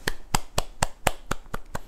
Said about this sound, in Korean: 이 자리를 빌어 성원해 주신 모든 분들께 감사의 박수를